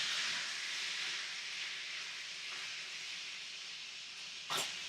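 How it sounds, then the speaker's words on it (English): Vermouth deglazes a hot pan for a sea bass dinner, producing a steady, close, bright hiss of sizzling that slowly eases off, with a brief sharp burst near the end. "add in our vermouth. Deglaze the pan with it."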